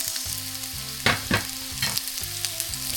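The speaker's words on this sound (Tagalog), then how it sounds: "now the oil is hot. I put some garlic. The garlic. And now the onions." Garlic and onions sizzle in hot oil for garlic buttered tiger prawns, a close, steady crackle broken by several sharp bursts of stirring, with a faint hum underneath and no talking.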